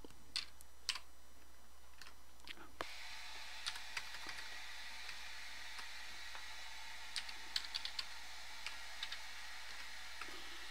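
Quiet, close computer keyboard typing while an expense voucher is entered in accounting software, scattered key clicks over a steady faint hum, with a louder knock near the start.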